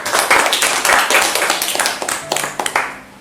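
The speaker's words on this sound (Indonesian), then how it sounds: "Tepuk tangan untuk kelompok jaksa." A group in a classroom-style mock trial session applauds the prosecutors' team with a short burst of brisk, close hand clapping lasting a few seconds, tapering off at the end.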